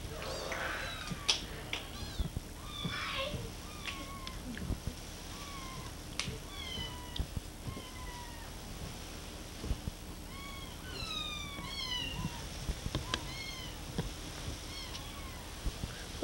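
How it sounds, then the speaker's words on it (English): A cat meows repeatedly indoors, short rising and falling cries scattered through the stretch, fairly close but modest in level, with faint background noise and a few other household sounds. "Where's the other cat, Brooke?"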